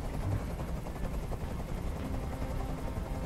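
A helicopter in the video game Detroit: Become Human hovers with a steady low rotor drone and thrum, moderately loud and continuous, with no speech over it.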